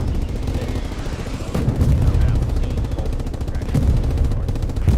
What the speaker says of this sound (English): There's so much artillery.